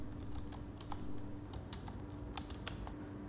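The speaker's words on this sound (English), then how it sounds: "So we need to type in here the email ID." An email ID being typed on a computer keyboard: soft, faint key taps in an uneven quick run, close to the microphone, over a low steady hum.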